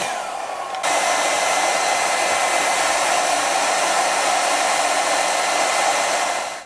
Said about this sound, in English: we're going to use the hair dryer. So let's heat that up.